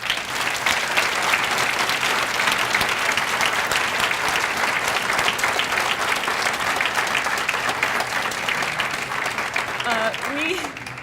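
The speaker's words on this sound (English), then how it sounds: "let's congratulate everyone that was nominated with a round of applause" Guests at an annual awards dinner give a sustained round of applause for nominees, a dense, even roar of clapping from a large room that carries on steadily before fading slightly at the end.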